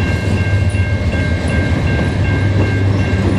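CN mixed freight train passing at sunset in Montreal, a steady loud rumble of rolling cars with a constant metallic hum and faint wheel clatter, heard close by without a break.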